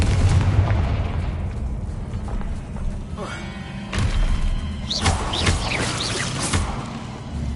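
Confringo blasting spells in the video game Hogwarts Legacy go off in several booming bursts with crackling, fizzing tails, layered over a low rumbling background, and a voice speaks between the blasts.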